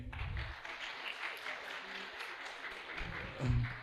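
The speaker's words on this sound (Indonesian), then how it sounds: "Tepuk tangan untuk Burhan." Parents and guests at an Islamic boarding school graduation ceremony applaud a student who memorized the Quran, a steady wash of clapping at moderate distance, with a brief low thump near the end.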